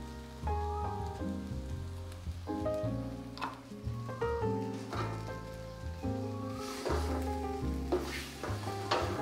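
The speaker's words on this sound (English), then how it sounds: "now the paste is ready to be fried, so let's fry it" Thai tamarind chili paste fries in a pan with a soft, continuous sizzling crackle that sits under louder background music.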